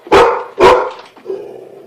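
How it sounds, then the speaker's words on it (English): A bulldog barks twice in quick succession, loud and close, followed by a short lower grunt-like bark. "What you barking? You don't even know what you're barking at."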